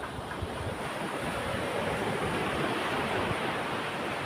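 Ordinary surf breaks on a clean beach at Baler, Aurora, a steady, broad wash of waves with wind rumble over the microphone and no voices.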